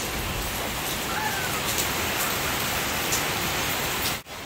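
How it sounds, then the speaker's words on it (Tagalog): Heavy rain pours steadily in a dense, hissing roar that continues without a break, briefly dipping near the end. "Umuulan. Sobrang lakas."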